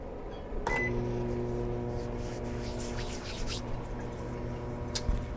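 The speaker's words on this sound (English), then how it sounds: "while these are in the microwave" Microwave oven running with a batch of crappie minnows inside, a steady low electrical hum with a sharp beep and click near the start and another short beep near the end.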